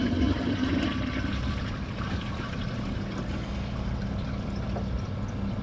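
A Kohler Pressure Lite toilet flushing, a steady rushing gush of water and low pressurized roar that holds evenly for several seconds, close and fairly loud, with no talk.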